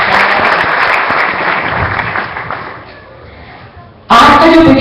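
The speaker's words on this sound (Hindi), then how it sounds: "इनके लिए जोरदार तालियां" Loud applause in a temple during a Govardhan Puja gathering, dense clapping that gradually softens and dies away, followed abruptly by a loud burst of other sound.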